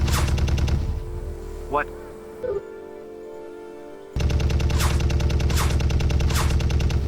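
A drone fires rapid bursts of gunfire at a fleeing target, with a loud sustained automatic rattle, a lull with a brief spoken exclamation, then the rapid firing resumes close and loud.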